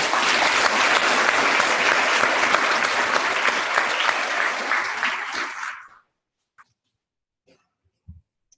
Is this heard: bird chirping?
no